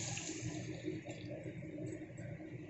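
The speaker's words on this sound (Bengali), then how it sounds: "এখানে জল দিয়ে দেবো।" Water poured into a pot of rice for cooking, a steady close rushing stream lasting the whole moment, no talking.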